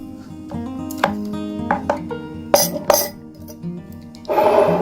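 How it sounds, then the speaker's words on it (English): A carrot is shredded by hand in a kitchen, giving several scraping and chopping strokes at an uneven rhythm, close and fairly loud, over a steady tonal background hum. "After we shred around 2 teaspoons of carrot,"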